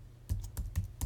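Keystrokes on a computer keyboard while entering text into a spreadsheet, five distinct clacks spaced at a steady rhythm, close and fairly soft, with no voices.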